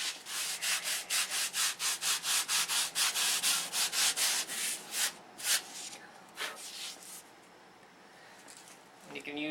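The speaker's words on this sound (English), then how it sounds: "We're sanding an airfoil." Hand sanding a wooden flap airfoil with a flat sanding block: a steady run of rhythmic, close abrasive strokes, about two per second, then slower scattered rubs and pauses.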